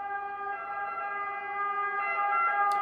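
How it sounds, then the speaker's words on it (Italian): An ambulance siren sounds as a continuous, steady multi-tone wail at moderate distance, alone, with no talking. "Esci il tuo rumore dalla mia stanza, ambulanza."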